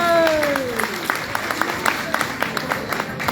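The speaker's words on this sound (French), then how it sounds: "Sous vos applaudissements, cher public, s'il vous plaît." An audience at a stage event applauds, scattered individual claps ringing out as a voice fades at the start, thinning to sparse, distinct hand claps.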